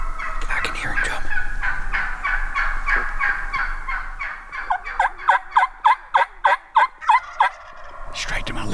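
A wild Merriam turkey in New Mexico's high desert gobbles over rustling outdoor ambience, then gives a clear rapid series of about eight sharp, fairly close calls near the end.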